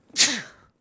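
A single sharp sneeze, close and sudden, with a breathy hiss that fades within half a second.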